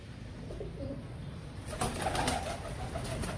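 Royal Teddy pigeons give soft, low coos close by over a faint background hum, with a brief rustle or flutter of wings partway through.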